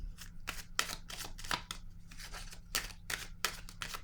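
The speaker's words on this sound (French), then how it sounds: "Je vais déposer une autre carte ici." Tarot cards are handled and laid down on a table, giving a series of soft, quick papery swipes and slaps in an uneven rhythm, close by and quiet.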